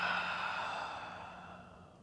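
One long, soft exhale during a yoga session, steady and gently fading, close to the microphone with no talking.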